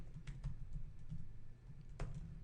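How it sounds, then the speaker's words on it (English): Someone types a router command on a computer keyboard, giving a few quiet, irregular keystrokes close by over a low background hum. "I didn't have to type all that out"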